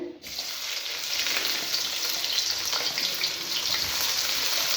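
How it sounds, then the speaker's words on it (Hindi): Hot cooking oil sizzles and crackles steadily as onions fry, a loud continuous hiss with small pops throughout. "सबसे पहले हमने प्याज फ्राई करने हैं।"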